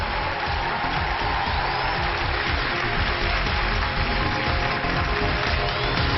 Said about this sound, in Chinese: 来，掌声有请两位